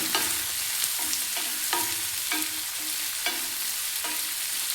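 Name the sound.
green chillies and curry leaves frying, being mixed in pan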